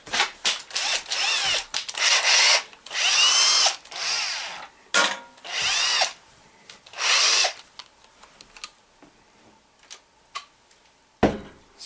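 Cordless drill spinning a brass cartridge case held in a rag for polishing, in repeated loud whirring bursts of a few seconds each with short pauses, then quieter handling clicks and a final sharp knock.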